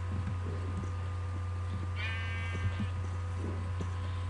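Minecraft sheep give a single wavering bleat over a steady game background hum, with faint clicks and footsteps scattered around it.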